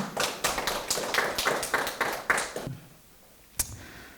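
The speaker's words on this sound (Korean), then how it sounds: "자, 환영의 박수로 맞이해 주시기 바랍니다." Dense clapping from a conference audience fills the first two and a half seconds, then stops abruptly; a single sharp knock follows after a short quiet pause.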